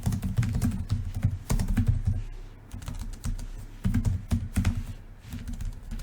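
Brisk typing on a computer keyboard while a Mantis bug tracker report is being filled in, with irregular bursts of close key clicks and short pauses between them.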